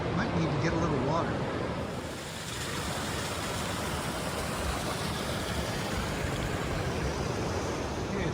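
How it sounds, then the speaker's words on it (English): Ocean waves wash continuously onto a beach, a broad steady rush of surf that swells slightly at the start and then holds even and close for the rest of the stretch. "we're at the beach"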